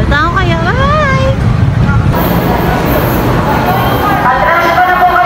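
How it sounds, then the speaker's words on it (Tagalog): Heavy city traffic on a busy road near an MRT station, a steady broadband roar of buses and cars throughout, with a person talking up close over it at the start. "Sobrang traffic, guys. So yan, sobrang traffic."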